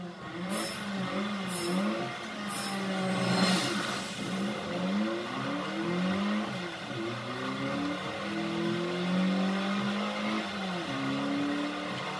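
A race car in Forza 6 drives a wet track, its engine revving up and down through repeated gear shifts and braking, a steady close motor drone with faint spray and tire noise.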